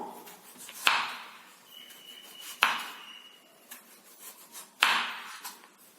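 Knife slicing potato into thin pieces for potato finger chips on a board, three sharp cutting knocks spaced about two seconds apart with soft rubbing between, close and fairly quiet.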